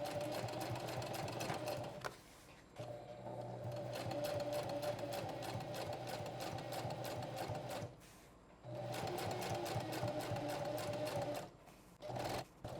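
A sewing machine stitches a narrow seam along a zipper edge on a duffel bag, a fast steady close-up whir broken by several short pauses as the fabric is repositioned.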